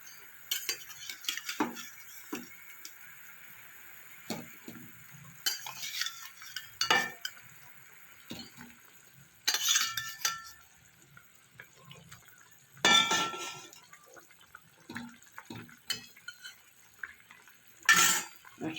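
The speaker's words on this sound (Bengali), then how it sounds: "সর্ষের গ্রেভিটা আমার ফুটে গেছে, এবার আমি বেগুনগুলো একে একে দিয়ে দেবো।" Eggplant pieces go one by one into a pan of boiling mustard gravy, with intermittent utensil clinks, clanks and soft splashes standing out from a quiet kitchen background.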